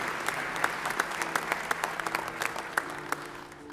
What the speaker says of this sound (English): Let's give one more round of applause for the elementary and the secondary principals of the year.